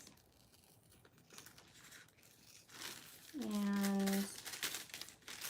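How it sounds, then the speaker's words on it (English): Scissors trim excess fabric off a bra top during a home sewing fitting, giving close crinkly snipping and rustling with a brief rising squeak midway and a short spoken word. "now I'm just trimming off the excess"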